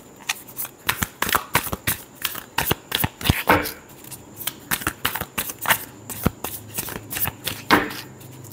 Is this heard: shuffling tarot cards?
yes